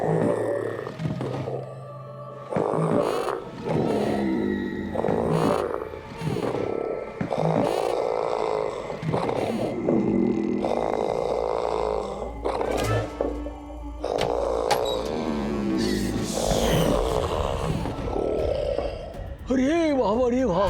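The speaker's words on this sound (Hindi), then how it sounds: "अरे गाड़ी इतना जोर से खर्राटा लेता है, बाबा ये खर्राटा सुन के तो मुर्दा भी उठ के भाग जाएगा।" A man snores extremely loudly in a comedy scene, with exaggerated, rough, rattling snores repeating roughly every couple of seconds. The snoring is close and dominant, with people talking in between.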